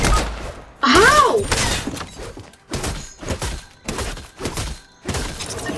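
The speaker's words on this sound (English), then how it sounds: "How did he shoot me through that?" Fortnite gunfire rings out in a series of sharp, loud bursts, spaced irregularly, with a shrill whine near the start and impacts and thuds between them.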